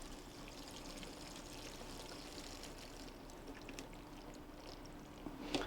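Water poured into the bottom tray of a 72-cell seed tray, a steady close trickle and splash running without pause for several seconds, with no talk over it.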